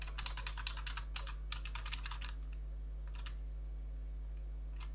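Arrow keys tapped on a computer keyboard, quick bursts of clicky keystrokes in rapid clusters, then a few isolated presses over a steady low electrical hum.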